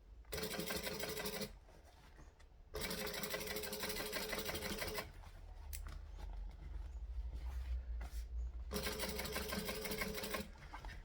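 A sewing machine top stitching a triangle bag runs in several bursts of rapid, even stitching, pausing briefly between runs, close and clear with no talking.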